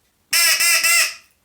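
An Acme crow call is blown to imitate a European crow, giving one loud, harsh, nasal caw about a second long, close up and alone.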